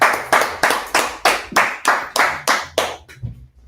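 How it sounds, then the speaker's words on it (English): Hands clap sharply about ten times in a steady, even rhythm, loud and close, with no other sound between the claps. "clap it up, clap it up,"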